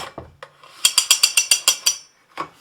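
Recoil starter teeth on a Clinton J-9 outboard clicking as the pull rope is drawn, a close, loud run of about eight quick ratcheting clicks between a few scraping sounds.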